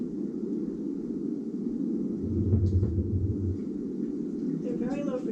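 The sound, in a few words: low-frequency fish rumble, likely lake sturgeon, underwater recording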